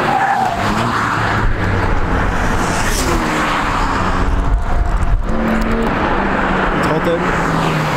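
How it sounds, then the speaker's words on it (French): A three-cylinder car races past at full throttle with screeching tyres and a loud, steady engine roar, surrounded by traffic. Voices talk throughout. "on a un 3 cylindres qui arrive à fond la caisse"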